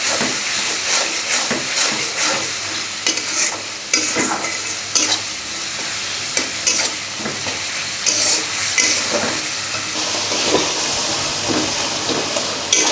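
Ground turmeric, chilli, coriander, cumin paste and salt frying in a pan, a loud close hiss and sizzle with repeated scraping stirs and bursts of spatter, continuous for the whole stretch.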